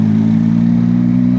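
Steady, loud engine drone of a motorcycle on the move, holding an even pitch throughout with no voices.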